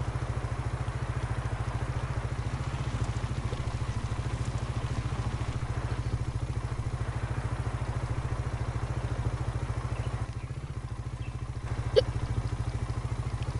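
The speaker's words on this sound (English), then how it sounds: "Let's hear the engine." A repaired vehicle's engine idling in a video game, a steady low rumbling drone with faint clatter throughout, moderately quiet and continuous with no talk.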